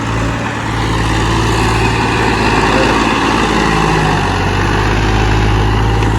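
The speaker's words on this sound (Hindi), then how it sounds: "तो अभी थोड़ा ट्रैक्टर मार रहा है देखो।" A tractor working a field while preparing farmland, its engine running as a loud, steady drone close by for the whole stretch, with no talking.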